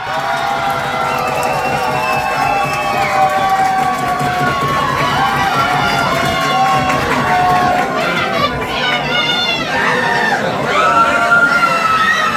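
Continuous crowd roar at a talent show, with cheering, scattered shouts and clapping layered under a prominent voice or melody, staying loud from start to finish.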